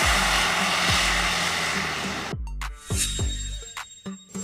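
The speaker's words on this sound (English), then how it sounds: "Seaplane. An aircraft capable of taking off and landing on water." A seaplane's propeller engine drones steadily and loudly, then breaks into several sharp, uneven bursts and surges near the end.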